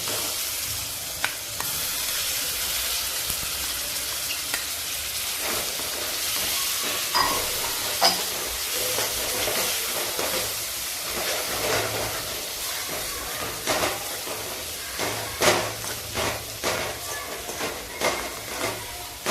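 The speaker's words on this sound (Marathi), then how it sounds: "हे सर्व चांगलं परतवून घेते" Coconut, onion and garlic masala paste frying and being stirred in a pan for a black-masala matki usal, a steady close sizzle and hiss with repeated scraping and stirring clicks throughout.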